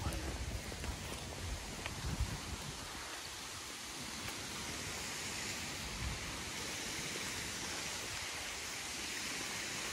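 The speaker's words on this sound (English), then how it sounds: "Different view of the waterfall from here." Steady broadband rush of the waterfall at Chedoke seen from Cliff View Park on a March hike, a constant wash of falling water filling the whole clip without pauses.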